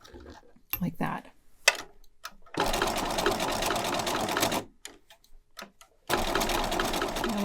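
A sewing machine stitches a heart-shaped tooth fairy pillow in two steady runs of about two seconds each, with quiet pauses and small mechanical clicks between them.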